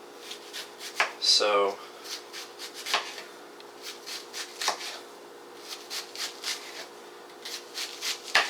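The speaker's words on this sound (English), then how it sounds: "this is how I cut onions up" A knife chops an onion into square pieces on a board, giving a run of short, crisp, fairly close cuts in an uneven rhythm, with a brief word spoken near the start.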